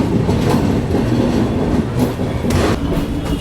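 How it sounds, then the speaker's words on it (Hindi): A passenger train pulls out of Agra Fort station, a loud, close rumble with rolling wheel clatter and occasional sharp metallic squeals, heard from on board without talk. "अब वक्त हो चुका है आगरा फोर्ट से भी निकलने का"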